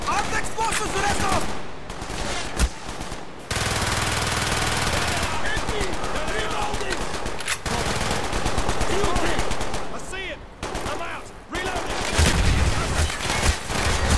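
Rapid automatic fire from a Sten gun and a PPSh submachine gun in the Call of Duty: Black Ops Project Nova battle, sustained loud bursts with brief pauses, mixed with game voices and speech throughout.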